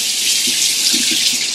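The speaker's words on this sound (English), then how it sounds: "when you're done shaving, you want to rinse off all the shaving cream" Bathroom tap running in a continuous hiss as shaving cream is rinsed away, with faint splashes of hands in the water.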